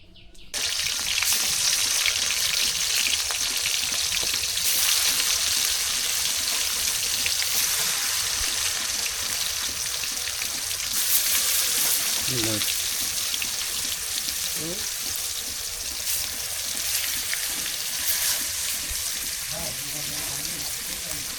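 Water poured into a hot pan of fish cooking with potatoes and onions gives a steady, close hiss and sizzle that runs throughout, with faint talk underneath.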